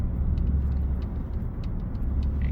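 Low, steady rumble of road traffic backed up near a construction zone narrowed to a single lane, car engines droning continuously from close by with a few faint higher ticks and clicks.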